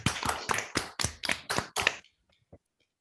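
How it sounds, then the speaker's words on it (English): Participants in an online academic meeting clapping after unmuting, seven or eight distinct close claps in an even rhythm for about two seconds, followed by near silence with a faint stray tap. "maybe we can on 3, 2, 1 unmute ourselves and clap"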